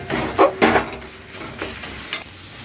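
Spice paste for a mushroom dish is sautéed over medium heat, with a soft sizzle beneath a few sharp clinks and scrapes of a spatula stirring against the pan.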